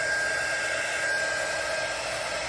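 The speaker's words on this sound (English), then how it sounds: "I'm going to use my heat gun. I'm going to sort of blow it toward the middle." A heat gun blows steadily on a resin pour in a platter, a constant loud airy roar with a faint high whine, unbroken and with no voices.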